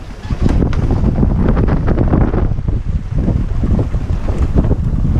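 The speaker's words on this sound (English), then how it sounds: "Now I got 15 knots of wind." Steady, loud wind roars across the microphone aboard a sailboat on a beam reach in about 15 knots of wind at sea, sailing solo from the Azores, with water rushing along the hull underneath throughout.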